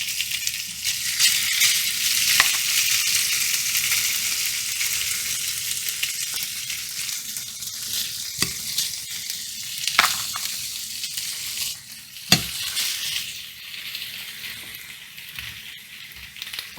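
Chicken pieces sizzle loudly in a pan heated to medium-high and coated with cooking spray, a continuous bright frying hiss broken by a few sharp scrapes and knocks as they are stirred.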